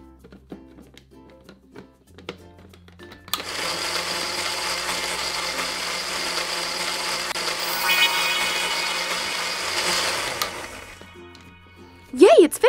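A toy blender blending strawberries, banana, tangerine and carrot runs with a loud, steady whirring motor for several seconds, then cuts off, followed by a brief bright high-pitched sound.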